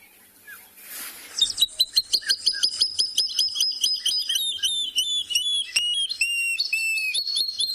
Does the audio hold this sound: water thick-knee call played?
yes